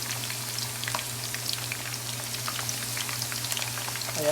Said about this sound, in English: So if you see, onions are nicely fried, golden brown.